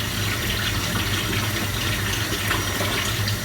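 Tap water runs steadily into a bowl left to soak, a continuous broadband rush of filling water at close range with no pauses or voices.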